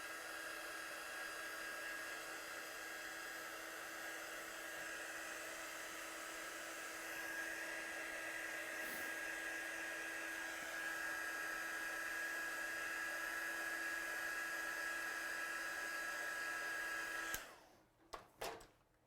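A heat tool dries freshly stamped black ink on a handmade card. It gives a steady, loud whirring hiss for about seventeen seconds, then cuts off, followed by a few light handling knocks.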